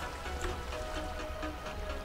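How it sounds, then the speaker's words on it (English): Rain in Minecraft falls as a steady, dense hiss of droplets, constant and unbroken throughout, with no talk over it. "Yeah, it's raining, damn it."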